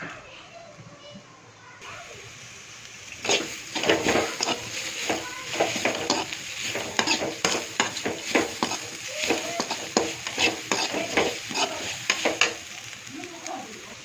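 Chopped big onions frying in a pan for dry fried rice, a steady sizzle broken by a fast run of stirring scrapes, with some faint voices in the background.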